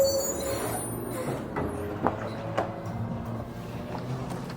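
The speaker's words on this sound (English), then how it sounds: "The only thing I want to do is run the engine for a few minutes." A 2021-2024 GMC Yukon engine idles steadily just after an oil change with AMSOIL oil and a Wix filter, a continuous low rumble with a few faint clicks on top and no talking.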